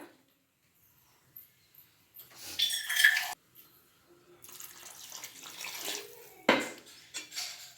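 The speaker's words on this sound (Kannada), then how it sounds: "ಇನ್ನೊಂದು ಸ್ವಲ್ಪ ನೀರು ಹಾಕ್ತೀನಿ ಈಗ" Water splashes into a cooking pot while aloo palya is being made, in a few brief pours with metal pot and utensil clatter in between. No one speaks.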